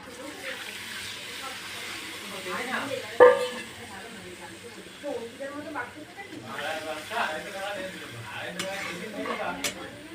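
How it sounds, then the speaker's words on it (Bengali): Water is poured into sautéed spice paste in a pan while making shukto, giving a soft sizzle with stirring and a light clink of utensils, fairly quiet under a low voice. "এবার এর মধ্যে আমি জল ঢেলে দেবো"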